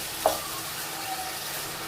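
Squid strips sautéed with vegetables, garlic and oil are stirred in a hot pan, giving a steady soft sizzle with one brief scrape of a utensil near the start.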